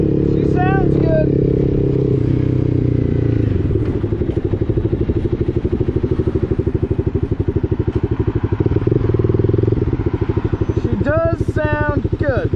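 A motorcycle fitted with an SC Project exhaust runs close by with a loud, rapid, pulsing engine note that rises and falls, under bursts of voices.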